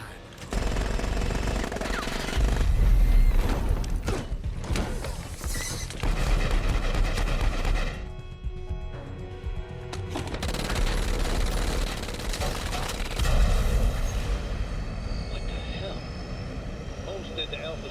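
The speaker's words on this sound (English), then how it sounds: "I'm seeing what looks like gunfire in the passenger cabin." Gunfire and aircraft engine roar in an Army of Two video game cutscene aboard a damaged plane, with bursts of rapid shots and heavy rumble running loud throughout, broken by brief lulls, with dialogue under the action.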